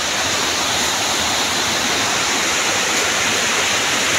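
A waterfall and river pouring and flowing at a jungle swimming spot, a loud, dense, unbroken roar of rushing water filling the whole stretch, close by and with no talking over it.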